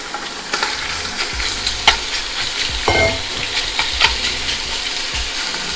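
Warm olive oil sizzles in a pan, a hissing crackle with sharp clicks and scrapes from stirring scattered across it, moderately loud and close with no voices.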